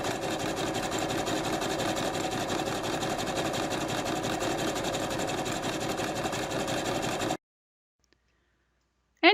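Sewing machine running steadily while thread painting onto a thick card postcard, a dense fast mechanical whir held close for about seven seconds, then cutting to near silence.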